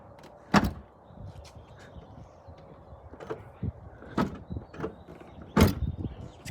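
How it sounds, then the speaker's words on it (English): A vehicle tailgate is pushed toward closed, giving several sharp knocks and clunks spaced a few seconds apart, with softer rattles and handling noises in between. "let's see if I can still close the tailgate"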